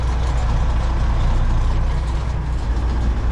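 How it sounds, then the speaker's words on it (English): Cab-interior rumble of a Peterbilt 389 truck engine while driving, a steady loud low drone with throbbing low-end pulses and road noise throughout. "this truck ain't too loud"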